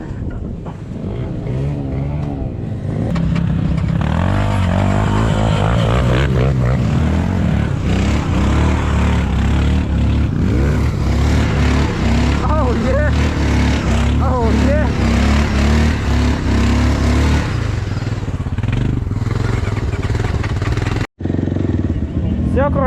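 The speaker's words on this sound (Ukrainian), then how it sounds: "Беха їде сюди, оце зараз буде движуха, диви." A BMW motorcycle rides up with its engine revving, a steady loud drone rising and falling over about twenty seconds at an informal bikers' meet, with people talking nearby.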